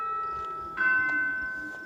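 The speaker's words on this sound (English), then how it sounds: "Hey, you hear that bell?" A church bell rings in the distance while someone walks across Colorado outdoors, its long humming tone swelling once and lingering faintly over quiet surroundings.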